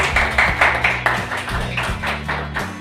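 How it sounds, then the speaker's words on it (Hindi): A church congregation at a Hindi-language sermon claps hands together in a quick, even rhythm, close and fairly loud, over a low sustained musical tone. "एक बार ताली बजाइए।"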